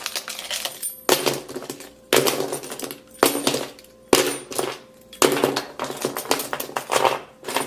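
A tool scrapes and taps repeatedly against the back of an iPhone 7, giving a series of about seven harsh, close scratching bursts with short gaps, some with a faint metallic ring.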